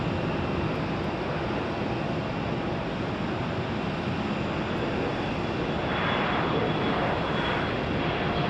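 A C-175 jet airliner roars at Phoenix Sky Harbor International Airport, a loud sustained engine rumble and hiss that swells slightly toward the end.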